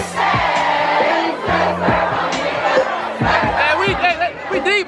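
A busy party crowd chatters and shouts over thumping bass-heavy music, with overlapping voices and occasional whoops, loud and close throughout.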